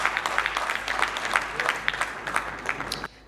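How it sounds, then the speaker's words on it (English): A conference audience at an occupational safety and health event claps in a lively round of applause, individual claps distinct and close, ending abruptly just before the finish. "So really want to give you a round of applause for that."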